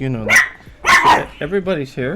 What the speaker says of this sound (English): Oh, yeah, that's the puppy.